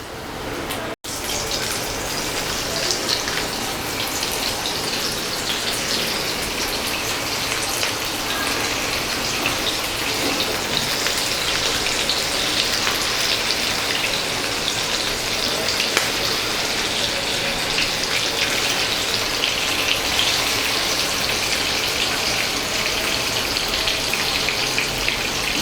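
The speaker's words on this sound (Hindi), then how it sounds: "चलिए इसको अच्छे से फ्राई होने देते हैं एक साइड में" Bombil fish sizzling in oil on a tawa over low heat, a steady dense crackle and hiss that holds throughout, close and continuous with no talk.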